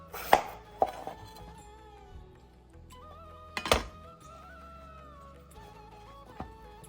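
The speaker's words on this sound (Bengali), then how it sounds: "তো আমি রেগুলার সাইজ করে কেটে নিব এখন।" A knife chopping vegetables into regular-size pieces on a cutting board, a few sharp, distinct thunks spaced irregularly and heard up close over quiet background hum.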